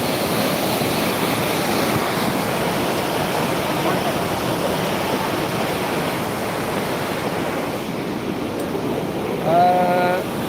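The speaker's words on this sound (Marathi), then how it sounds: "आता आपण इथं पाहू शकतो एवढा पाण्याचा प्रवाह आहे" Water gushing through a breached lake embankment after heavy rain, a broad, steady roar of rushing flow heard up close and continuous, with a brief faint tonal sound near the end.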